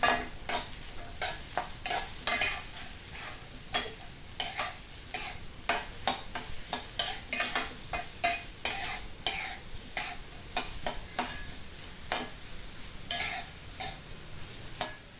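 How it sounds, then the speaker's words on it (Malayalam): Onions stirred in a cooking pan for a Kerala mushroom curry, a steady run of scraping spoon strokes and clicks over a soft frying sizzle, close and fairly loud, with no talk. "നന്നായിട്ടൊന്ന് ഇളക്കി കൊടുക്കണം ഇതൊക്കെ"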